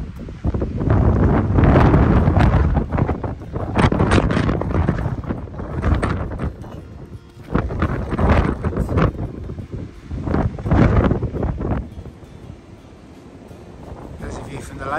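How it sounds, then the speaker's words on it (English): Gusty wind by a lake in the Wye Valley, Hereford, buffets the microphone in loud, rumbling bursts that rise and fall, with brief calmer moments between gusts. "Windy spot here."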